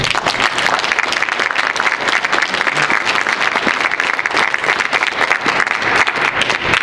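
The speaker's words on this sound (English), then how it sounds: "I'd like to have the audience give this new board a round of applause" An audience at a town board meeting gives the new board a round of applause: dense, loud, sustained clapping from many hands, with no talk over it.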